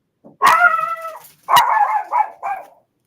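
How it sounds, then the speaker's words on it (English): A dog barks in a room, loud and close: a long, high, whining bark followed by two or three shorter yelps, with no other sound around them. "I think the dog's trying to tell me somebody coming to the house"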